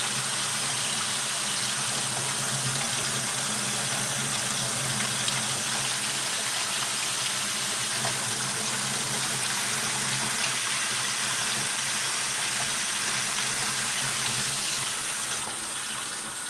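Water gushing steadily from a tap during an aquarium water change, a dense, even rush that holds constant throughout with no pauses.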